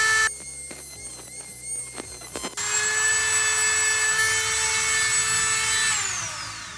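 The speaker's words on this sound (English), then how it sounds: "So chop it off with the Dremel first." A Dremel rotary tool cuts the overlong axle off a Scalextric slot car motor. Short stuttering bursts of whirring and grinding are followed by a sustained, loud, high-pitched whine that steadies and then tapers off near the end. No one speaks.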